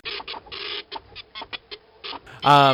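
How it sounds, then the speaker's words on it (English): A dot matrix printer chatters in short, rapid bursts of mechanical buzzing, separated by brief pauses. Near the end a voice starts speaking over it, close and loud. "Let me get the printer going. I got the dot matrix. Let me fire it up."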